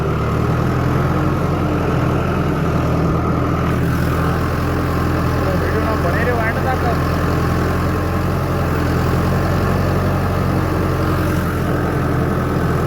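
A tractor engine pulls a fully loaded trolley, giving a loud, steady, low droning rumble that continues unbroken throughout.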